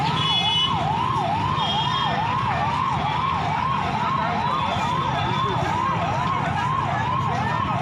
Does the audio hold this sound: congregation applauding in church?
no